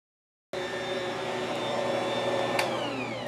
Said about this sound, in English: So we're going to go for another minute just on the slow speed.